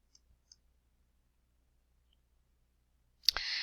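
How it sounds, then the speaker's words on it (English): A computer mouse clicking while signing up on a website: two faint clicks early on, a long silence, then one louder, close click followed by a brief burst of noise. "So you'll go ahead and click Select."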